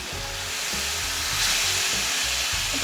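Bacon pieces sizzling over an outdoor fire grill, with a loud, steady close crackling hiss and a low rumbling hum underneath, no talk.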